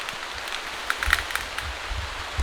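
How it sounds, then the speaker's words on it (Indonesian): Rain falls steadily over a rural clearing where trees are being cut, a soft continuous hiss broken by scattered pattering drops and light rustles, with no voices. "tapi hujan"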